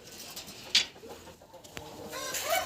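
Chickens and chicks cluck and chirp faintly in the distance over a quiet farmyard background, with a few sharper bird calls standing out.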